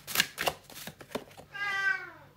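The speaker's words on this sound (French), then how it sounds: "j'ai le chat qui vient me parler" A house cat meows beside someone indoors, one clear drawn-out meow near the end, after a few soft tapping clicks.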